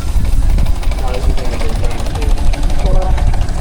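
Steam traction engine running at a spring steam fair, giving a steady, loud low chuffing and mechanical rumble close by, with voices chatting over it throughout.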